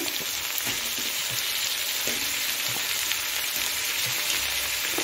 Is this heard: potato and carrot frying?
yes